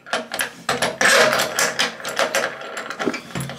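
A ratchet wrench cranks down the bolts of a toilet cistern being fitted, giving a rapid series of close, sharp clicks in quick bursts with no talking.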